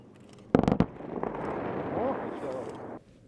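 A blast set off during a Russian emergency ministry (MChS) exercise in Yakutsk: one sharp, loud double burst, followed by a long rumbling roar. A voice calls out over it.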